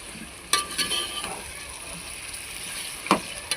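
Chicken pieces frying in hot oil for a curry, with a soft continuous sizzle under a few sharp clinks and scrapes of a utensil against the pan, quiet and close.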